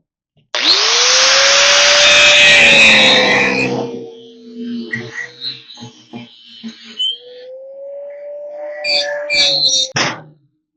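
A power tool drives small self-tapping bolts through metal on a gooseneck, a loud sustained whir that rises and winds down, then a couple of shorter bursts and clicks follow.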